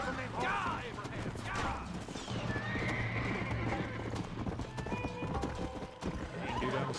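Hooves clip-clop and a horse whinnies in the Red Dead Redemption video game, with galloping hoofbeats running throughout, a high neigh rising near the start and again at the end, and faint game noise underneath.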